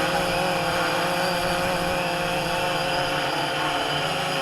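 A WLToys V303 Seeker quadcopter flies outdoors in wind, its rotors making a steady, continuous whirring buzz with no voices.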